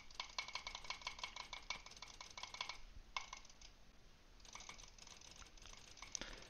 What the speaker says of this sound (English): Just clicking some skill points real fast.